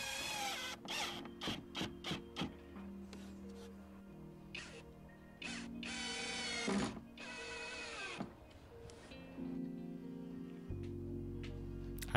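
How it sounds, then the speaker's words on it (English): A power drill drives self-tapping screws into the walls of a scrap-wood shed, giving a series of short whirring bursts and longer sustained runs at close range, fairly quiet overall. "I'm going to attach each wall to the next one by screwing them together"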